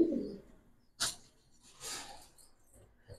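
A Giribaz pigeon gives a few short, soft coos with gaps between them in a quiet space, near and faint, with no talking over them.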